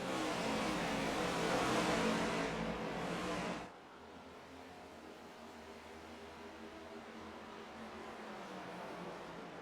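Race cars at New Hampshire bouncing into a bumpy corner, engines roaring loudly and steadily before dropping sharply to a lower, more distant drone as they pass.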